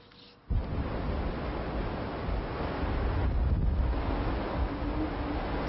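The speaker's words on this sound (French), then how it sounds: "Il s'agit simplement, au sens strict du terme, d'un fort coup de vent." Strong gusts of wind on the Brittany coast near Brest during a winter gale, roaring steadily and loudly against the microphone after a brief quieter start, with heavy buffeting rumble throughout and no voices.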